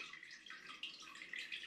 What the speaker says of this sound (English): So you can see there's plenty dripping off this.